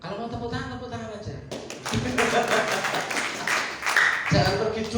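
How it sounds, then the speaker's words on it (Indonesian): Audience at a church family gathering claps hands, a dense wash of applause after a short sung line, steady and fairly loud through most of the stretch with a voice briefly over it. "kalau mau tepuk tangan aja"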